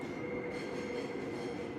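A subway train runs through the Seoul metro, a faint, steady rumble of carriages with a thin, sustained wheel whine and no voices.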